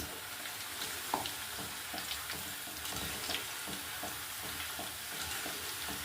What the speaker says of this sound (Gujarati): આ રીતે ડાયરેક્ટ જ એને તરી નાખવાની છે ફ્રેન્ડ્સ